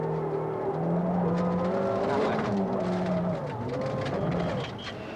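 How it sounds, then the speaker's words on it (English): Ford Sierra Cosworth rally car at the 1987 Circuit of Ireland passing at a distance, a moderate engine note rising and falling in pitch over a few seconds, then fading, with faint background noise. "Jimmy McRae, after a difficult day, would be happy with 3rd place in the Cosworth."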